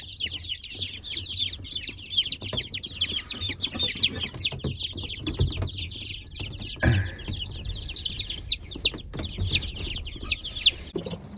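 Young chicks on a small farm keep up a busy stream of high peeping and clucking, overlapping calls throughout with occasional knocks and handling noises nearby.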